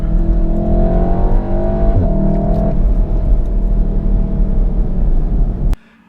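A 2016 VW Golf R with DSG 4Motion revs up through paddle-shift gear changes, a loud close engine drone rising and dropping in pitch, then cutting off abruptly at the end.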